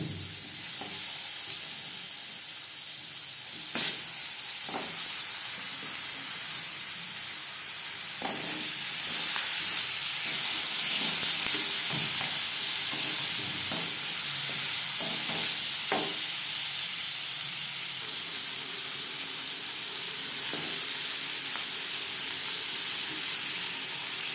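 Pointed gourd pieces frying in oil with salt and turmeric over a low gas flame, a steady close sizzle and hiss broken by occasional soft stirring scrapes and taps.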